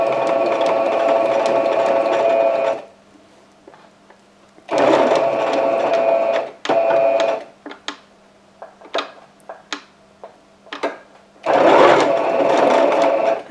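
A sewing machine fitted with a walking foot back-stitches oven mitt fabric made from jelly roll strips, running in loud steady whirring bursts separated by pauses filled with clicks and handling noises, close and without talk.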